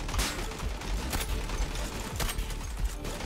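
Cheytac M-200 sniper rifle fire in a video game: several sharp, loud shots spaced about a second apart, each cutting through a constant busy wash of in-game noise.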